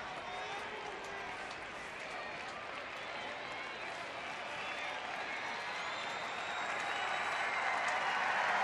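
A baseball stadium crowd roars steadily for a Texas Rangers pitcher in the top of the ninth with a one-run lead, a broad sustained cheer that slowly builds louder toward the end, with a few whistles cutting through.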